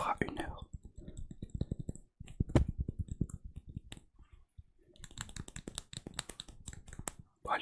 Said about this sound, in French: On va entendre beaucoup mon clavier.